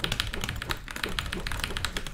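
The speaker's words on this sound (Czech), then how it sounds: "Ten zvuk téhle klávesnice." Someone types quickly on a mechanical keyboard with switches like reds or browns, producing a dense, close run of crisp clicky keystrokes at an even pace.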